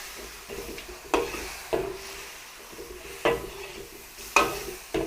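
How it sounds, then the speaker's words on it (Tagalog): Turkey pieces stirred with soy sauce in a sizzling pan, a utensil scraping in several distinct strokes over a low steady fry, close and moderately loud. "Tapos lagyan natin ng toyo. Haluin po muna natin."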